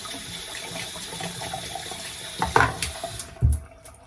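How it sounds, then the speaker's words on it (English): Water sloshes and trickles in a small bowl as shaving soap is rinsed from a razor, a steady low wash punctuated by a couple of louder splashes and clinks near the end, close up and fairly quiet. "I have a little bowl in here and I'm just rinsing out all of the soap."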